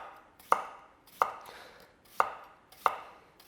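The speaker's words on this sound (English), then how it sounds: "And just cut these potatoes nice and thin." A knife cuts thin potato slices on a board, four crisp evenly spaced chops about two-thirds of a second apart, close and clear with nothing else heard.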